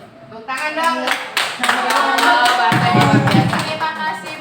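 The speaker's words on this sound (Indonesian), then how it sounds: "Tepuk tangan dong." A group of teachers in a school-change discussion session clapping hands together, a fairly close, dense burst of rhythmic claps that starts after a brief voice and continues steadily to the end.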